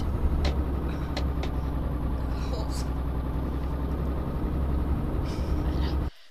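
A car approaches from behind in Euro Truck Simulator 2, heard as a steady, loud engine and road drone that continues throughout and cuts off abruptly near the end.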